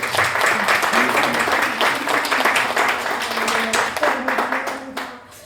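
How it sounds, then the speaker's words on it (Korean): A church congregation at a Sunday worship service breaks into loud, sustained applause, which thins and fades out toward the end, with some voices mixed in. "우리 준비해 주신 모든 분들을 위해서 같이 박수로"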